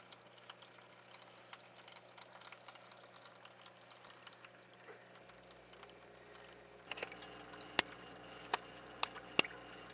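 Water trickles and drips through a reef aquarium reactor filled with granular ferric oxide and carbon, with faint steady flow and a few sharper drips toward the end.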